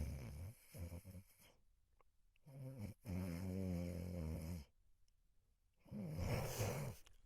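During a dramatic audiobook reading of A Christmas Carol, a voice imitates Scrooge's heavy snore: several drawn-out, rattling snorts separated by quiet pauses, close and alone.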